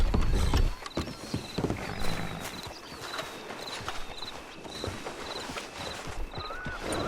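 A horse's hooves clop in a steady walking rhythm in an Old West town, moderately close, with faint creaking gear and a brief snort or whinny under ambient noise.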